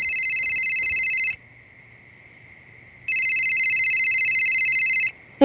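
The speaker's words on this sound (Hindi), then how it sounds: "तेरा फोन बज रहा है" A telephone rings indoors at night in two loud electronic bursts, about a second and two seconds long, separated by a short quiet gap.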